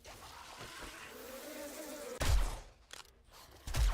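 Bees buzzing in the survival video game 7 Days to Die, a steady droning hum under the game's ambience, broken midway by sharp loud bursts of in-game action.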